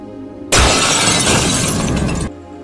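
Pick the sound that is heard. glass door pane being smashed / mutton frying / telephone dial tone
glass door pane being smashed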